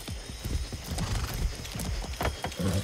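Horse hooves clip-clop in a steady galloping rhythm close by, with a whinny breaking through, ridden in the video game Far Cry 6 amid ambient game sound and no speech.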